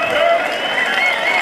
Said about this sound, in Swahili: Sasa hayo makofi peke yake hayatoshi